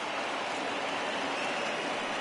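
Steady rain falls across a ballpark in the baseball video game The Show 20, an even, dense hiss with no breaks that stays constant from start to finish.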